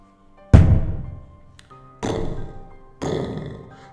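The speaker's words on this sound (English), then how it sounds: "The thudding grew louder." Three heavy thuds in a scary story, each a deep, booming impact with a short decaying rumble, spaced about a second and a half apart, the first one loudest, with no voices over them.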